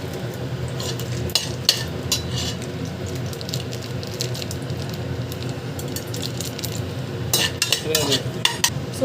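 Whole spices such as cinnamon bark, cloves and star anise, along with onions, cooking in oil in a pot for a mushroom biryani, giving a soft continuous sizzle under repeated clinks and scrapes of a stirring spoon against the pan.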